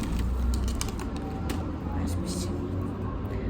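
Crinkly crackling of a child's swimming goggles package for a four-year-old being opened, steady close rustle and creaks under quiet background noise.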